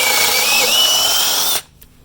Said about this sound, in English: Drill a 5/16 hole right through the whole board.